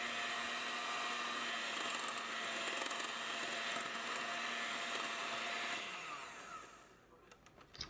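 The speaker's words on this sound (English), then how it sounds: "I'm just going to mix that well just for a couple of seconds" Electric mixer whirring steadily as melted butter is blended into blueberry muffin batter in a bowl, a loud continuous motor drone that winds down near the end into a few faint clicks.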